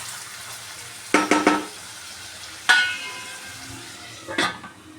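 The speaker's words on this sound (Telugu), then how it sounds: "ఆనియన్స్ మంచి కలర్ వచ్చే వరకు ఫ్రై చేసుకోవాలి" Onions frying in a pan while being stirred, three short bursts of scraping sizzle separated by quieter stretches, close and without talk.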